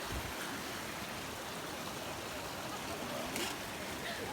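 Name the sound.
Chattooga River flowing near a waterfall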